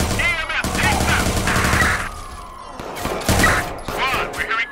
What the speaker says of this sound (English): we're hearing gunshots.